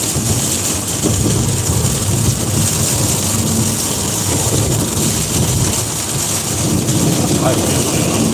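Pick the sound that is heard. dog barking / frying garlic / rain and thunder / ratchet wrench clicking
rain and thunder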